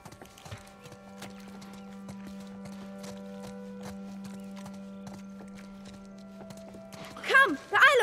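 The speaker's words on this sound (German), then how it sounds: "Also ich höre hier irgendwas rumklappern, das klingt fast wie Pferdehufe." Horse hooves clip-clop through the PC version of The Last of Us Part 1, a steady patter of hoofbeats set against a humming game backdrop, with a louder burst of noise near the end.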